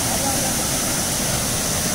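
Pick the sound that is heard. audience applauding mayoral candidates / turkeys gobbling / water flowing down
water flowing down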